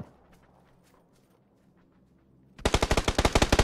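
Burst of rapid automatic gunfire in a shooter video game erupts loud and close after a quiet stretch of faint background game noise, about a dozen evenly spaced shots.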